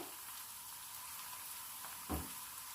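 A sliced onion is frying in hot oil for a cauliflower and chicken curry, giving a steady, close sizzle with a soft thump and a brief flare of crackling late on; nobody speaks.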